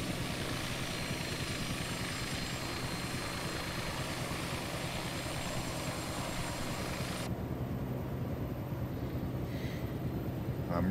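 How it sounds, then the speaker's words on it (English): A helicopter in a flight video game flying over the Cliffs of Moher gives a loud, steady rotor and engine drone throughout, with the sound turning slightly duller partway through. "I'm digging the helicopter."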